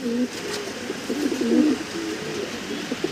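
Pigeons coo at a loft where a white King and an English Trumpeter are kept; soft, repeated throaty coos roll on steadily at close range with no one speaking.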